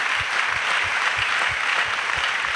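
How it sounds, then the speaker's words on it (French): Church audience giving applause as an offering to Jesus, a continuous even clatter of many hands with a regular low beat pulsing beneath it. "A clap offering to Jesus."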